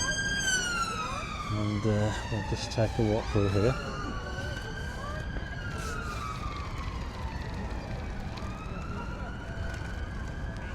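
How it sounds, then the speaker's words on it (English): An ambulance siren wails on a Blackpool street, rising and falling in long sweeps with a brief rapid yelp burst, close and loud at first and then easing, while a person talks over it. "It's alright, it's just an ambulance."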